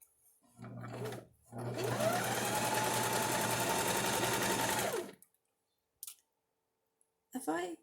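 A home sewing machine stitches a nursing top in one continuous loud run of about three seconds, with rapid mechanical clatter and a motor whine, followed by brief clicks and a short voice.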